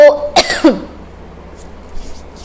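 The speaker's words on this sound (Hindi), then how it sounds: "मैं लाउड बोलती हूँ तो मेरे को खांसी होने लगती है" A short throat-clearing cough, close and sharp, followed by quiet room hiss.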